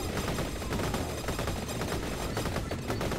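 Rapid, continuous shooting in Vampire Survivors, a dense crackling barrage of quick repeated shots with no pause, steady and fairly quiet throughout.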